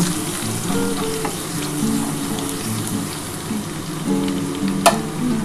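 Chilli chicken with chopped garlic sizzles steadily in a pan, with scraping stir strokes and a sharp clank near the end, close and continuous with no talk.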